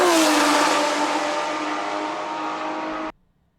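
A Porsche 917K race car roars past close and loud, its engine note sliding downward as it flies by, then cutting off abruptly into near silence.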